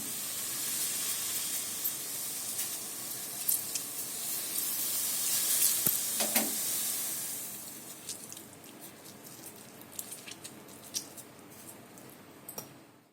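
Milk boiling in a pan as lemon juice is squeezed in to curdle it for paneer, giving a steady close hiss and sizzle with scattered pops and crackles that fade to quieter bubbling.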